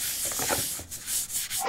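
Close, rhythmic rubbing strokes sand down a wood finish by hand, with a few short back-and-forth passes and brief pauses between them.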